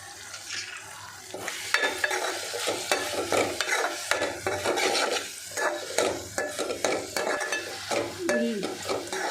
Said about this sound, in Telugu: ఈ టమాటా ముక్కలు అయితే మంచిగా ఫ్రై అయినాయండి